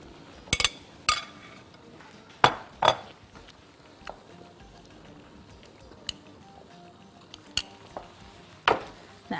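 A spoon stirring molokhia soup in a metal pot, with sparse sharp clinks and scrapes against the pot at irregular intervals over a quiet background.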